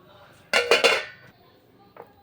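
A bowl of fish with chili powder, salt and gram flour is mixed by hand, producing a quick burst of close metallic clinks and clatter, then a single faint knock.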